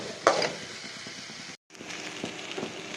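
Okra (ladies' finger) frying in a pan: a soft, steady sizzle with occasional stirring scrapes, close by, broken by a brief silent gap.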